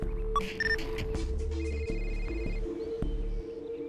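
An electronic phone ringtone in the video game Halo: Reach trills steadily for several seconds over a low, constant hum, with a few faint clicks and chirps in the background.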